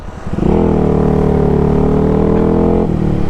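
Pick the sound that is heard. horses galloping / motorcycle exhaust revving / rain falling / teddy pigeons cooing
motorcycle exhaust revving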